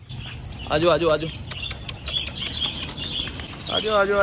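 Pigeons flutter and flap their wings close by as they come out of their coop, with soft cooing and bird calls mixed in and a voice speaking intermittently.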